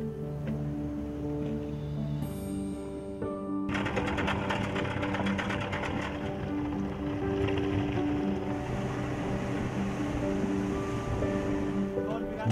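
A boat crosses the sea toward Tawau, its motor droning steadily under a broad wash of waves and wind. Tonal music-like layers run alongside, and the level stays fairly constant.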